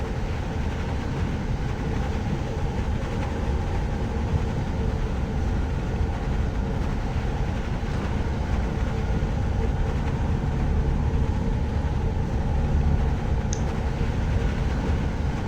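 A monorail glides along its track in the park-building game Jurassic World Evolution 2, a steady low rumbling drone that holds evenly throughout with no talking.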